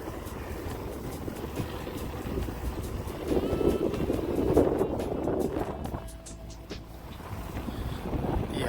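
Strong wind buffets the microphone along a riverside cycling route by the Kennet and Avon canal, a steady roaring rush that swells and eases for several seconds with no talking.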